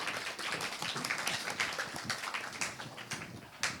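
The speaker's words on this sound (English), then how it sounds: "Please have a round of applause to welcome them." Audience clapping in steady applause to welcome speakers at a keynote event, a dense run of many hands, moderately loud and continuous throughout.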